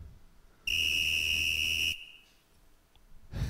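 A sharp referee whistle blows in one sustained shrill blast of about a second, loud and close, then cuts off, with quiet room tone and a soft thump after, during a Dota 2 draft broadcast.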